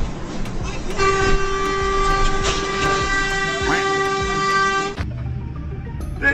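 A loud, sustained train horn blasts for about four seconds close by as a train passes, over rumbling rail noise that continues after the horn stops.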